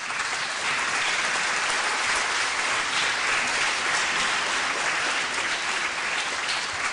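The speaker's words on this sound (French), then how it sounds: "Je vous demanderai de les saluer comme il se doit en les applaudissant." Continuous applause from a crowd gathered at an Armistice Day ceremony, many hands clapping in a dense, even wash that holds steady throughout.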